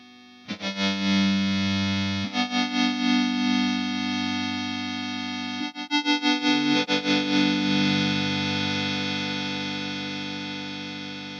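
A sustained, heavily processed electric guitar chord through Enzo synth and Dark Star reverb pedals, with synth-like tone and wash of reverb, swelling and pulsing with a wobbling modulation, loud and alone.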